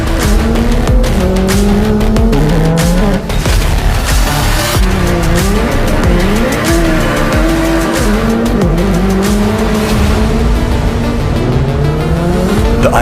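The Hyundai RN24 electric rolling lab car, a small EV with the IONIQ 5N motorsport powertrain, drives hard. Loud, continuous tire squeal wavers up and down in pitch over steady road noise throughout, with no talking.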